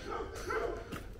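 Faint, distant dog barks in a couple of short bursts come from a children's home on a street in Kiamunyi, near Nairobi, over soft outdoor ambience.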